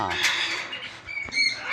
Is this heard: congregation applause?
no